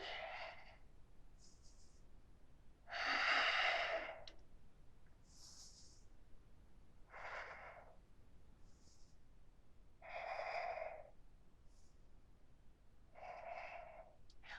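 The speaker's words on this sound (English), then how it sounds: "Gently breathing here." Soft, slow breaths during a gentle yoga backbend stretch, several airy inhales and exhales spaced a few seconds apart, close and quiet against a still background.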